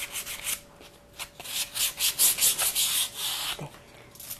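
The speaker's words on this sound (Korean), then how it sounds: "사포질을 해주세요." Sandpaper rubs across the painted wooden edges of a flower tabletop mirror frame being smoothed for napkin art, a close run of rhythmic scratchy back-and-forth strokes with no talking.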